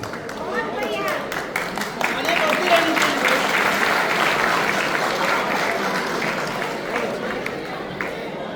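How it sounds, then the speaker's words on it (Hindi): A crowd at a local political gathering claps loudly to welcome a child, sustained dense applause that swells and holds, mixed with chatter and a voice speaking over it. "बहुत जोर से तालियां बजा के स्वागत करिए बच्चे का"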